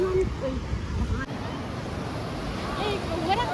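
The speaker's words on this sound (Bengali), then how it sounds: "পানি কা ঢেউ দেখো" Sea waves wash steadily onto the beach at Puri, a constant rushing surf with wind on the microphone, while people nearby talk and call out over it.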